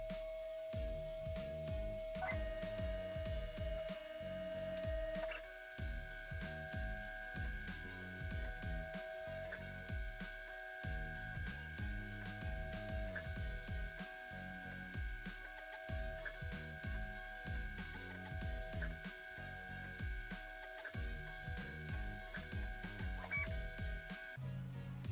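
An Ender 3 3D printer, bought used, runs a bed level test print, its stepper motors whirring in steady buzzing bursts and sustained tones over a continuous fan hum, close and constant with no speech.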